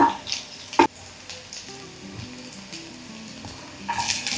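Spring onions and garlic fry in a hot pan for a Hot Chilli Garlic Chicken, giving a steady sizzling hiss with a sharp clatter near the start and the frying growing louder toward the end.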